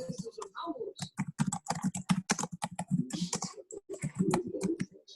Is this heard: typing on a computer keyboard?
yes